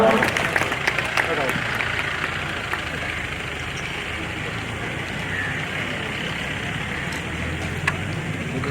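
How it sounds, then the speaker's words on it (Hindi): Applause from an audience welcoming a guest onto the stage at a statue unveiling ceremony: a sustained, dense wash of clapping throughout, with a voice and other crowd sounds mixed in. "जोरदार तालियों से सादर स्वागत अभिनंदन"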